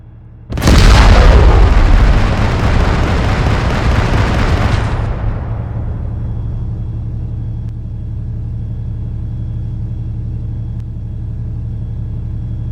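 Explosion of an IED set off after a fire in the hole warning, a sudden loud blast with a long rumbling roar that fades over several seconds into a steady low hum.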